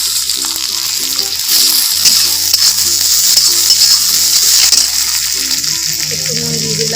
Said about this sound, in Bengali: এবার টমেটো কুচিগুলো দিয়ে দিচ্ছি।